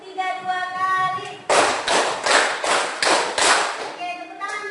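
Students in a classroom repeat a rhythmic group clapping pattern, six loud, sharp unison claps in quick succession following a teacher's brief spoken cue, with talk resuming afterward.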